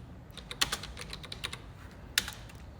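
Typing on a computer keyboard while entering a purchase sheet in Excel: quick, close clicks of the keys in short uneven bursts with a few sharper strokes, no talk over it.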